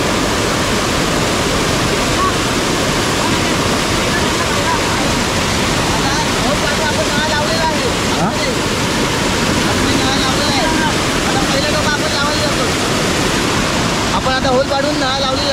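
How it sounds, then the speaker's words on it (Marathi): Water rushes and roars steadily and loudly where the Gad and Kajali rivers meet in the Konkan, a dense continuous wash of noise that runs unbroken throughout. "हे दोन नदी एकत्र आहेत, गड नदी आणि काजळी नदी"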